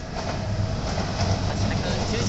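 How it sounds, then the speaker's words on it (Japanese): A Keihan electric train rushes past at extremely close range, a loud steady rumble and rail roar filling the whole moment with no talk over it. "おお、今電車が通過したばっかりだった。"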